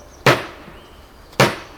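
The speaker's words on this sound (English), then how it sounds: "let's see how it feels like if we just simply smash this wooden board with the hammer like this" Rescue hammer smashing a wooden board, two sharp loud cracking blows about a second apart, close and dry with quiet between them.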